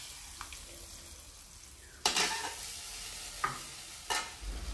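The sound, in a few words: frying ingredients stirred into the dal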